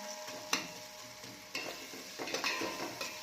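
Onion, garlic and ginger paste with chili stirred and sautéing in a pan, a soft steady sizzle broken by a few scraping strokes of a spoon, close and fairly quiet.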